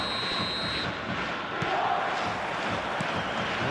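A football video game stadium crowd roars in a dense, continuous wash of massed voices and chanting, loud and sustained throughout with no single voice standing out.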